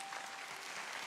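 Church congregation applauding during a worship service, a steady dense wash of clapping from many hands throughout, fairly distant and even in loudness.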